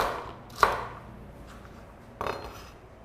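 Yellow pepper and celery are roughly chopped, two sharp knife strikes on a board about a second and a half apart, the first louder, over quiet room background.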